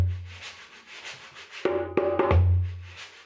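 A drummer's rubbing sound imitates scrubbing while washing up: soft swishing strokes, then a louder rasping rub with short bursts that fades at the close.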